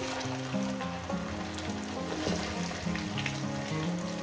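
Pieces of mukhi kochu taro and potato fry loudly in oil for a Bengali prawn chorchori, a continuous close sizzle with stirring scrapes over soft tonal background sounds, and no voices.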